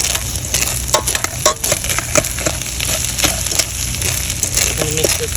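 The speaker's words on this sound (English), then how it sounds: "I'm going to mix this all in and take it off the heat" Fried rice being stirred in a hot pan, a continuous crackling sizzle broken by repeated scraping and clattering strokes of a utensil, close and fairly loud with no talking.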